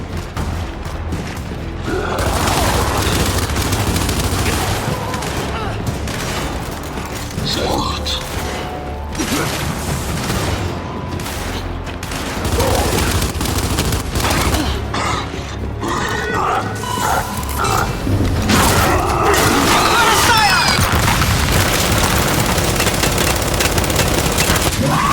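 Sustained, dense gunfire in the Gears of War 5 Hivebusters campaign, with rattling automatic bursts, mechanical clanks and occasional booms running loud and continuous throughout, under intermittent shouted dialogue.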